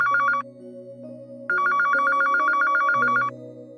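A telephone rings in a TV drama scene, its electronic trill coming in two clear bursts with a short gap between them, heard over a steady bed of background music.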